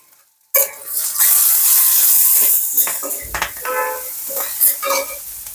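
Onions and green chillies fry with salt in a pan, a sudden loud sizzle followed by stirring scrapes and clinks of a utensil against the pan, close up.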